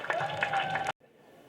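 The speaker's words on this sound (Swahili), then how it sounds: "Haya, tupige makofi kwa wazee wetu na viongozi wetu." Audience applause for elders and leaders at a secondary school opening ceremony in Iringa, Tanzania: a dense burst of clapping for about a second that cuts off abruptly, followed by quieter room noise.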